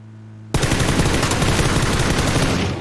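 Automatic gunfire in the battle royale game PUBG bursts in suddenly after a quiet lead-in and rattles on as a loud, dense, continuous stream of rapid shots.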